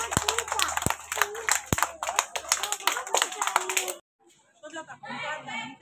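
Children clapping their hands together at a school Teachers' Day event, sharp overlapping claps in a lively burst for about four seconds, then stopping as voices and chatter continue.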